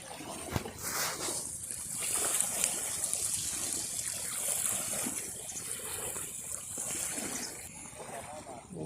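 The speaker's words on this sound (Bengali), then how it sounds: "নদীর পানির কি শব্দ" Steady rush of river water flowing and lapping at low tide on a stony bank with pebbles and shells, a continuous broad wash with some splashy texture, moderately near and fairly constant throughout.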